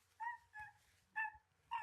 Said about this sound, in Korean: 개는 무언가를 원하는 듯이 계속 주인을 향해 짖고 있습니다